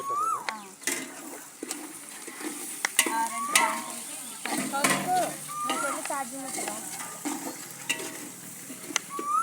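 Ginger paste frying in oil for sambar, a soft sizzle under clattering stirring and scraping of utensils against the pot, with scattered sharp knocks.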